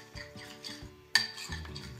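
Natural face mask ingredients are mashed in a bowl with a utensil, giving close, soft squelching taps and scrapes, with one sharper clink of metal against the bowl partway through.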